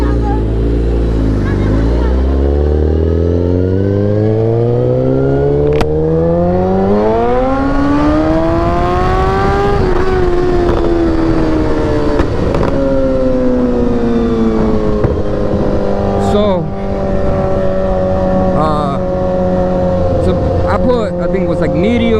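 Vehicle engine idling and revving on the wrong, higher-octane fuel for a low-compression motor, a loud close drone with pitch rising and sagging unevenly as it labours toward stalling.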